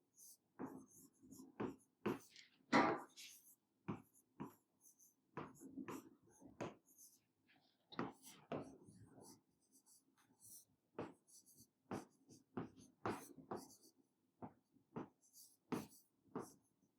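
Chalk or marker writing a topic name on a classroom board, a series of short close scratches and taps in irregular bursts with long pauses, faint and alone over a quiet room.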